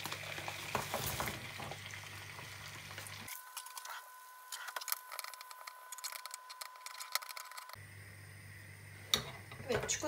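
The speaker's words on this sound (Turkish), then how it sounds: "Şimdi bunun içerisine çikolatalarımı atacağım erimesi için" Chocolate pieces are stirred into melted butter in a pan as they melt, giving a soft scraping and gentle sizzle that runs steadily throughout, with faint clicks and no talking.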